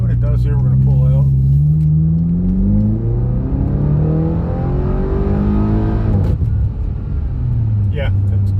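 A 2010 BMW X5 M pulling away in M mode, engine revving up loud and close with rising pitch through gears, a brief shift dip, then climbing again.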